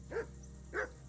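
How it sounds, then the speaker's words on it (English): Two separate barks from a dog in the medieval role-playing video game Kingdom Come Deliverance 2, moderately close and clear, spaced about half a second apart over a low steady background hum. "Whistle at that mutt of yours to stop barking!"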